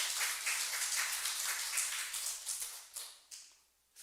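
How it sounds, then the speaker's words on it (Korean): A church congregation claps during a sermon, a loose, fairly quiet patter that thins out and breaks into a few scattered final claps. "우리 박수 한번 좀 쳐줘요."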